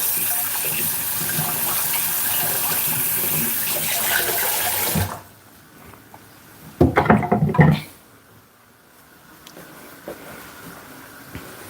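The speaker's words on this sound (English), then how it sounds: "just gonna give my hand a bit of wash" Tap water runs steadily and loudly over hands being washed in a home kitchen during chicken liver cooking, then shuts off halfway through, followed by a brief cluster of clattering handling sounds and quiet room tone.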